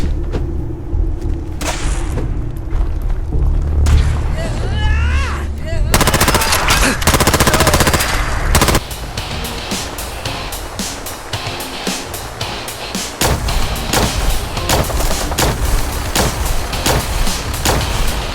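Plasma weapons fire in a multiplayer shooter video game, with loud, dense bursts of rapid zapping shots and booming impacts that run almost without pause, close and dominant, over busy game noise.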